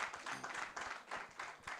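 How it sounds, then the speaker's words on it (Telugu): A church congregation at a Sunday service in Coventry claps together, a soft, distant, continuous patter of many hands rising and falling in waves. "గట్టిగా చప్పట్లు కొట్టి అభినందిద్దాం"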